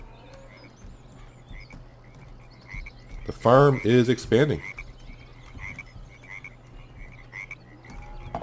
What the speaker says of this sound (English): I do like the ambient noise from the swamp, the frogs.